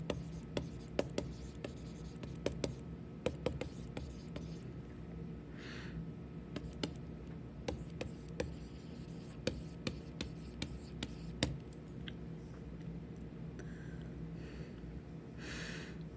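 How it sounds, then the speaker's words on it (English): Pen or marker writing out chemistry notes on oxidation numbers, a steady run of close scratching strokes with brief taps and pauses, heard alone without talk. "So let's write that out."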